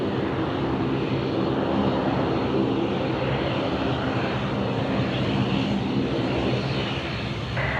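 An airplane taking off at Sydney Airport, a loud, continuous broadband engine roar that holds steady throughout with no other sounds.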